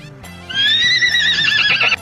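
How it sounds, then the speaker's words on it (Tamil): A horse gives one loud, close whinny lasting about a second and a half, rising and quavering before it cuts off, over a low steady hum. "டோ என்னடா குதிரை கத்துற?"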